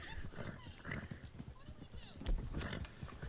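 Steady clip-clopping of horse hooves at a trot in Red Dead Redemption 2, with a brief snort, while a person talks over it.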